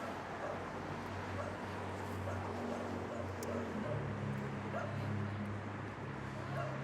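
Dogs barking and yipping on a street in Tbilisi, Georgia, several short bursts and whimpers set against a constant low traffic-like rumble.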